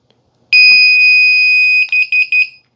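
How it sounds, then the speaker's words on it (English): A 12 channel remote receiver for Halloween props sounds one long loud electronic beep, then three short sharp beeps in quick succession, close and alone. "Those 3 beeps mean that it has accepted the mode."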